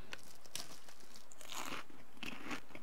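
Crunchy food being eaten in the survival game The Long Dark: close, quiet repeated crunching bites and chewing in an irregular rhythm, with no voices over it.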